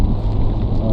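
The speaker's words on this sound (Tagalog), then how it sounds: "Malakas ang patak ng ulan." Heavy rain pours in a dense, loud, continuous wash with no pauses.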